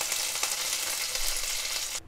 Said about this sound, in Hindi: अब इस टाइम पे हमने गैस को बंद कर दिया और अब हम करी पत्ता इसमें डाल देंगे